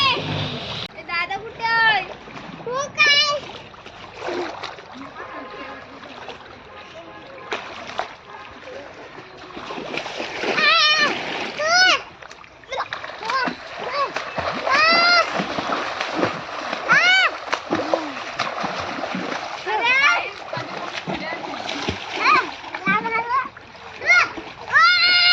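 A boat is hauled through the water at Malvan's Sangam Point. Splashing and sloshing carry on through the scene, close and fairly loud, with children's and adults' voices chattering over much of it.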